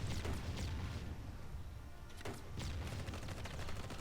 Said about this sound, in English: Suppressing fire. Launch some grenades.